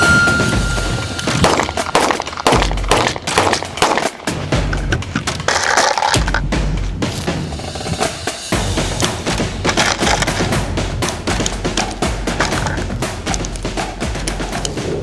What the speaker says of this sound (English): What you hitting them with, Mondo? A P320.